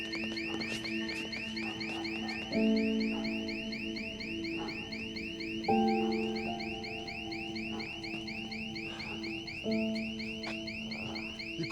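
A warbling electronic alarm shrills on and on in a film scene, rapid repeating pulses held steady throughout, with deeper tonal chimes sounding at intervals underneath.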